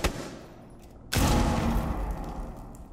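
Gunfire in a tactical shooter video game starts with a sharp shot, then a loud, sustained burst of dense rapid fire and booming impacts that fills the rest of the moment.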